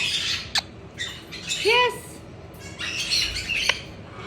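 A pet parrot gives a sharp, rising-and-falling squawk mid-clip among scattered short chirps and clicks, close by, and a person says a single brief word.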